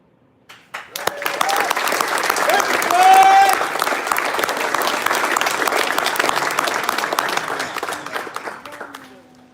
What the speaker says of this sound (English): Everyone, please give a round of applause for all of our promotes and award recipients.